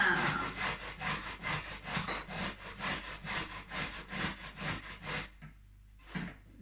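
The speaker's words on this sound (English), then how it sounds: "let's grate everything" Carrots grated by hand on a grater for a vegan chia seed carrot cake, a steady run of about fourteen close rasping strokes that stops, then one last stroke after a short pause.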